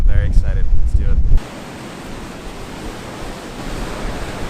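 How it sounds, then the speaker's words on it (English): Strong coastal wind in San Diego roars, first buffeting the microphone with heavy low thumps, then settling into a steady, loud rushing hiss. "It is really windy here."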